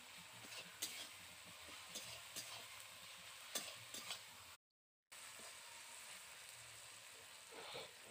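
Spice masala stirred and fried in a pan for a snail curry, a faint steady sizzle with soft intermittent scrapes of the spoon, close by and quiet, no voices.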